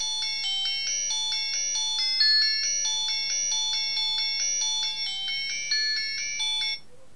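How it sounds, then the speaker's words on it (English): A U8 smartwatch plays a bright electronic ringtone: a repeating melodic pattern of high beeping tones that loops steadily for about seven seconds, clear and close, then stops abruptly. "And you've got about 5 different ringtones to choose from."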